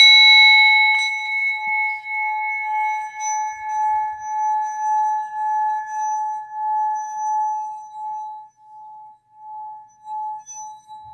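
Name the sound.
bell ringing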